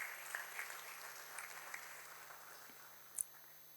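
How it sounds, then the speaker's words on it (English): Quiet audience applause at the Mother Nutri Food Ltd stock listing ceremony, light scattered clapping heard at a distance, with a steady electrical hum and one sharp tap near the end. "let us all give a huge round of applause to all the mothers, wives, sisters, daughters, brothers"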